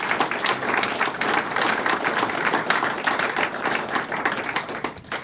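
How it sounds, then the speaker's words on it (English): Audience applause at an astronomy society's annual dinner meeting, a dense, steady clapping from a roomful of people held at full strength for about five seconds and trailing off slightly at the end, with no talk over it. "A round of applause for these three great people."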